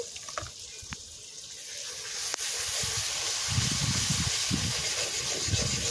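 Water pours into a pan of mutton curry, starting with a few clinks and then a loud continuous gushing hiss as the liquid bubbles against the hot sauce.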